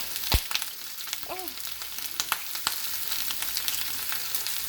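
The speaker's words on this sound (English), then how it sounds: "this pan's like extremely hot, so we just want to start browning it" Chicken browning in an extremely hot pan of oil for guajillo chicken, a close steady sizzle with sharp crackles and pops, including a loud spatter near the start.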